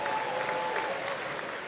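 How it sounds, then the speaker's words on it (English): Applause from a gala audience for a performer at an awards event, steady and dense clapping filling the whole stretch at moderate level, with a faint sustained tone and murmuring voices underneath. "A round of applause for Ryan."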